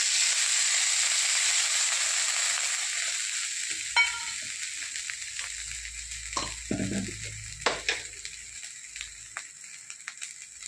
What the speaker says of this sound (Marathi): एकदम कोरडं होईपर्यंत आपल्याला छानसं भाजून घ्यायचं आहे तिखट।